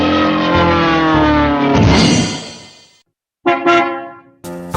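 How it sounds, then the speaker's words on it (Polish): A cartoon bus in a children's song departs with a bright, tonal horn honk that rises and fades. After a brief gap come two short honks and a final blast. "Autobus gotowy do odjazdu!"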